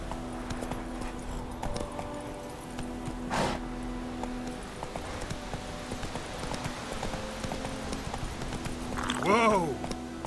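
Hooves clip-clop in a steady galloping rhythm from the horse Roach in The Witcher 3, with game voices speaking over them and a short neigh near the end.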